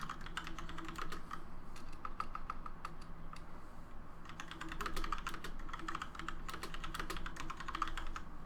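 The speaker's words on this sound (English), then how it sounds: "I can hear the furious typing." Fast, furious typing on a computer keyboard, a dense, continuous clatter of key presses that runs the whole time at moderate level, heard alone during a gaming stream.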